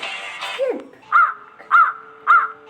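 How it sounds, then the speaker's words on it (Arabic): A crow cawing, a sliding call followed by three evenly spaced harsh caws, loud and close with short pauses between them. "غراب"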